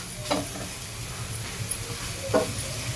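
Modak filling of coconut and jaggery with dry fruits is stirred in a pan: a soft, low sizzle with a few brief scraping strokes, fairly quiet and with no voices.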